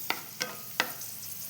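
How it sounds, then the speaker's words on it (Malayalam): A spoon or slotted ladle scoops fried mango sweet out of a frying pan, making three short, soft scraping clicks spaced apart over a faint sizzle, quiet and with no voices. "അപ്പോൾ ഇനി നമുക്കിത് കോരി മാറ്റാം."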